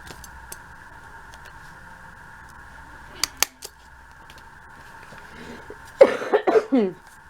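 A person coughs several times in a quick cluster near the end of a quiet craft session, following a couple of sharp clicks from a hole punch, against a faint steady background tone.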